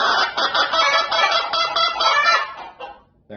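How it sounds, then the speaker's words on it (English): A close, loud burst of chickens squabbling, with harsh overlapping squawks and cackles in rapid succession that fade out over the last moments. "Little chicken argument."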